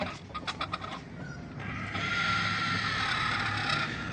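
A rooster roams outdoors among decorative chickens, giving a few short clucks at first, then a steady, faint background hum of the yard without speech.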